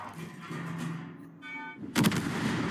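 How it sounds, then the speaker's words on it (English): Heavy naval gunfire from 16-inch battleship guns in the warship game Mir Korablei, a steady rumbling battle bed broken by a sudden loud, deep boom near the end. "I'm sandwiched by two battleships with 16-inch guns."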